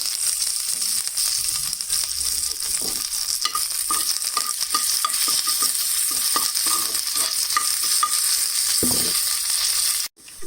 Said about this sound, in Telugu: జీలకర్ర, మిర్చి వేగాక నెక్స్ట్ కొంచెం కరివేపాకు